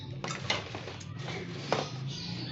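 Metal spoons clink and rattle against each other as they are handled in a kitchen, a few light close-up taps with no talking.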